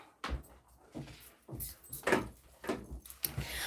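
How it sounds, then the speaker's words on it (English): A door being closed indoors, several near knocks and thuds in an uneven series, with handling clatter between them and no talk. "Let me close this door because this basketball game sounds pretty loud."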